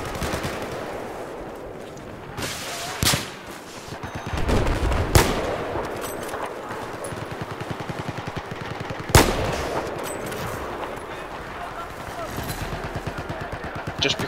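Gunfire in the shooter game Battlefield 4, with bursts of automatic fire and sharp single shots, some close and loud, over constant background battle noise while someone talks angrily throughout.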